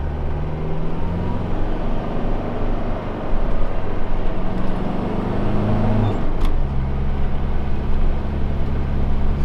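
A Land Rover Discovery 300TDI diesel engine accelerates, a loud, close, rising drone with a gear change near the middle before it pulls on again, and no talk.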